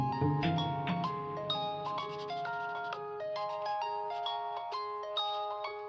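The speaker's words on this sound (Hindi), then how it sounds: "शानजे का फोन है," A phone ringtone plays a bright, repeating electronic melody of clear stepped notes, moderately loud and steady throughout, with no talk over it.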